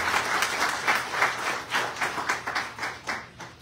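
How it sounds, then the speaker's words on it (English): Devotees at a satsang celebrating a 60th birthday clap for a guest, a modest audience's applause with audible individual hand claps pulsing in loose waves, moderately near and with no talk over it. "could you give him a lovely round of applause?"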